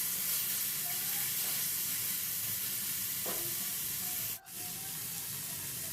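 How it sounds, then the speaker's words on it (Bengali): Grated beetroot being stirred and fried dry in a pan, a steady broad sizzling hiss that runs evenly throughout, with a faint scrape and a brief clunk near the end, close and moderately loud. "যতটুকু জল আছে বিটটার মধ্যে সেই জলটা একেবারে শুকনো করে ফেলবো ভাজা ভাজা করে ফেলতে হবে"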